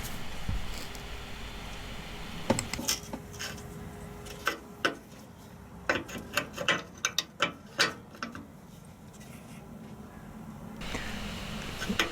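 A spanner nips up a new non-return valve on a Land Rover Defender TD5 90, giving a run of sharp, close ratcheting clicks in irregular bursts over quiet workshop background.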